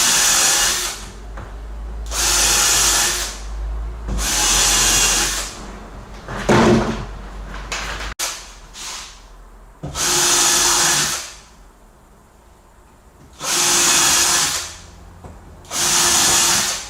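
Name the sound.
power drill pre-drilling holes in wooden floor joists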